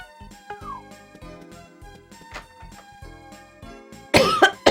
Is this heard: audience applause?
no